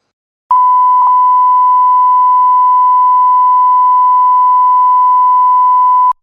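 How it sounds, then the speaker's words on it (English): A pure 1 kHz test tone played at a whistling workshop, one loud continuous beep lasting nearly six seconds with a brief glitch near the start, alone without talk. "This is a 1 kilohertz test tone."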